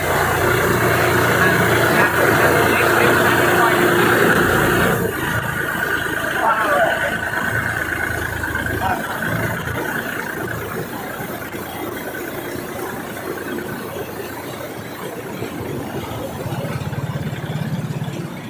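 A steady mid-pitched engine drones throughout, loud and close, a tractor running, with some background talk.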